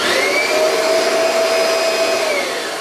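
A Kirby vacuum cleaner runs steadily and loudly for the whole stretch, its motor holding one continuous high whine with no talk over it.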